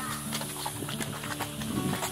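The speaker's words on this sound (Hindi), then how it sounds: "कुफरी में हम लोग घोड़े पे मतलब हॉर्स घोड़े सवारी कर रहे हैं हम लोग" A horse carries a rider along a muddy road in Kufri near Shimla, its hooves giving a steady clip-clop up close, mixed with outdoor bustle and faint background voices.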